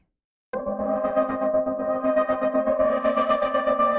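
A loud, distorted synth note holds steady while an auto filter's LFO sweeps and wobbles its cutoff rhythmically in Ableton Live, brightening toward the end, with an echoey effect.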